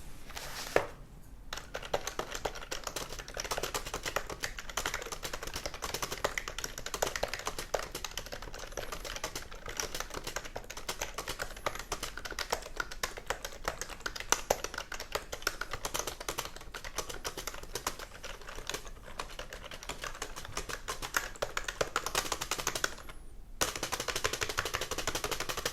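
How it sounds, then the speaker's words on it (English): Steady, continuous typing on a translucent plastic Macally iKey computer keyboard, rapid clacky keystrokes running for a long stretch with brief pauses near the start and end. "let's just have a typing test so you can hear what it sounds like."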